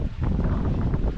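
Steady wind at sea aboard a sailboat making about 15 knots, a continuous rushing buffet against the microphone with low rumble and faint water wash, unbroken and fairly loud throughout.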